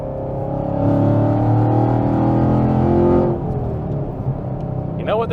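A car's exhaust drones loud and steady for about three seconds with a deep rumble, then eases off as the revs drop; a faint chirp comes at the end.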